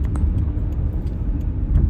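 Steady low rumble of a 19th-century Delaware and Hudson railway coach rolling at about 50 miles an hour down a gravity grade, a continuous close drone with faint rattles and no talk.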